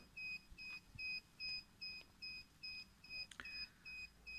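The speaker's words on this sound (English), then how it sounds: "Let's restart the beeper." A camera's safety beeper sounds after its cooling fan is reconnected, a faint, evenly spaced train of short electronic two-tone beeps about twice a second, with a small click near the end and no voices.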